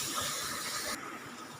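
Ground masala sautés in a pan with carrots for masala upma, a steady, close hiss of frying that drops slightly in brightness partway through.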